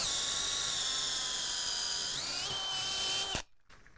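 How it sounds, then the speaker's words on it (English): A DeWalt DCD997 hammer drill whirs loudly and steadily at close range, its motor pitch stepping up midway before it cuts off abruptly near the end, leaving faint room noise. "I wonder if there's something wrong with this drill."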